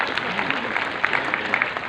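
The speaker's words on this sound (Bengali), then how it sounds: "আমাদের স্পন্সরসদের জন্য একবার জোরে হাততালি হয়ে যাক প্লিজ" An event audience applauds for the sponsors, a dense wash of steady clapping heard at moderate level from a crowd, continuing evenly through the short stretch.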